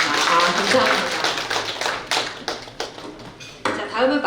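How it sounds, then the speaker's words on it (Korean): Audience at a newspaper's anniversary ceremony and election-winners' celebration gives a lecturer a round of applause, a broad crackle of many hands sustained for several seconds, then thinning and fading out. "이시우 원장님께 다시 한번 큰 박수를 부탁드리겠습니다"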